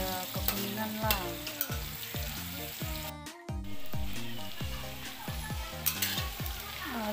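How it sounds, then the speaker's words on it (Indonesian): Anchovies fry in hot oil with a loud, continuous sizzle. Repeated scraping stirs punctuate it at a regular pace, with a brief dropout midway. "kita panaskan minyak, kita goreng bilis, goreng sehingga dia kekuningan lah."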